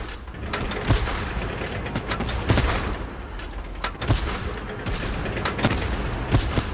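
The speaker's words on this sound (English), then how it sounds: "They're gonna shoot right through us!" Tank cannon and gunfire in a video game battle, with repeated sharp shots and booms every second or so over a dense, continuous rumble of combat noise, loud and without speech.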